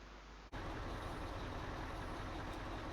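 A lorry pulls up outside in the video game Farming Simulator 19, a low rumbling engine drone starting abruptly after a short quiet moment and continuing steadily and loudly.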